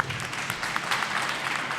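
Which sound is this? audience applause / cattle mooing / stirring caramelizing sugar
audience applause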